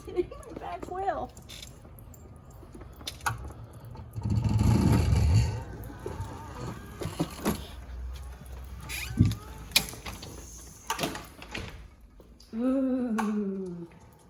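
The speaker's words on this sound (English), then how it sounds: "Oh, my ID bar is hitting my back wheel." A wheelchair's ID bar rubbing against the back wheel as it rolls, giving irregular mechanical creaks, clicks and rattling bumps close by, with a voice speaking at moments.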